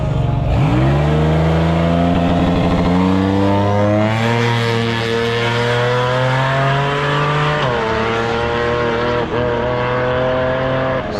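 A loud drag racing car, a Hellcat 'Cuda running 16.5 psi boost on E85, roars and accelerates hard down the strip, rising through gears with a brief dip near the end, continuous and close.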